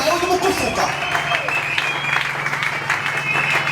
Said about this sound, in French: Apparemment, tu es en train d'acclamer pour moi.